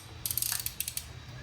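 A 5/8 socket wrench on a swivel extension ratchets quickly while loosening spark plugs on a 2010 Ford Focus, giving a short run of rapid, close clicking.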